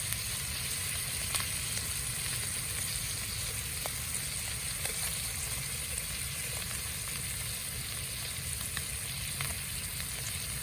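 Wagyu ribeye or strip steak searing in a pan over a gas flame, a loud continuous sizzle and crackle with scattered small pops, steady throughout and close up.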